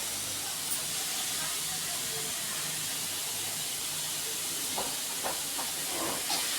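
Radish sautéing plainly in a pan gives a steady, soft hiss throughout, with a few faint scraping ticks near the end, close but quiet and without talk.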